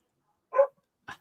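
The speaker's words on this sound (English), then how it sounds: "Sorry about my dog barking." A dog barks twice indoors during a live chat, two short, moderately loud barks about half a second apart against an otherwise quiet background.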